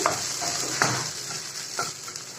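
A spatula stirs an egg and vegetable mix in a frying pan, giving a constant close sizzle broken by a few soft scraping strokes.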